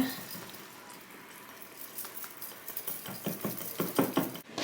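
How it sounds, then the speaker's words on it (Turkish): Batter of flour and vinegar whisked in a bowl, starting quietly and building into rapid rhythmic clinking and slapping strokes of the whisk, close up with no talking. "Şimdi onu çırpacağız güzelce."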